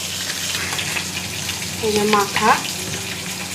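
Small fresh morola fish fry in a pan, crackling and sizzling up close. Someone speaks briefly over the frying.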